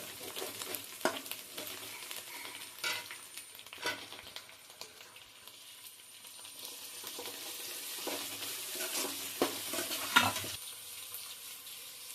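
Tomatoes sizzle and fry in a pan with onion and ginger paste for chicken biryani, a steady crackling hiss broken by occasional stirring scrapes, close and fairly quiet with no talking.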